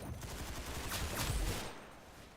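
Burst of automatic gunfire in the Roblox shooter Arsenal, steady shots building to a heavier blast around the middle before fading out.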